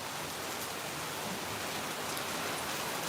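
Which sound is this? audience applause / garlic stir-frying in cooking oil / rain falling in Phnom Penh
rain falling in Phnom Penh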